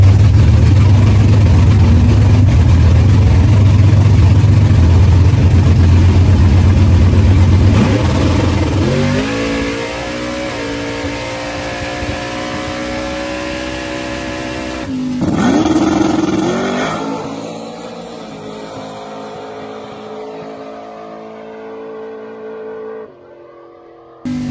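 LS3-powered Camaro on nitrous at a no-prep drag race, a loud engine roar that climbs through rising pitch sweeps, shifts around midway, then fades into the distance as the car pulls away.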